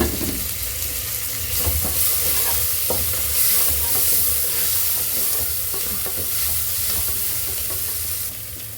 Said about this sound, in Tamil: நெக்ஸ்ட்டு புதினா போட போகிறோம். அதையும் போட்டு நல்லா வதக்கிக்குங்க.